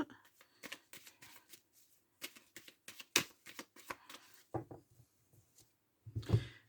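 Tarot cards being shuffled and handled, a quick run of crisp riffling flutters and soft card slaps, close and fairly quiet, with brief speech near the end.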